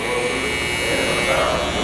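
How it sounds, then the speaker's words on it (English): Electric foil shaver buzzing steadily across a head during a bald fade haircut, a close, continuous high-pitched hum while a person talks over it. "go in with your foil shaver"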